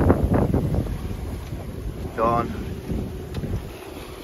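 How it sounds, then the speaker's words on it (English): Wind rushing steadily past a sailboat running downwind under solo sail, mixed with water and boat noise; someone speaks a word briefly over the blustery background. "And the wind is up, which is lovely."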